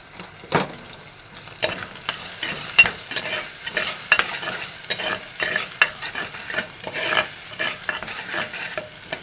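Chopped ginger and garlic sautéing in a hot pan, with a steady oily sizzle broken by frequent sharp scrapes and clicks of a spoon stirring, close and fairly loud, no voices.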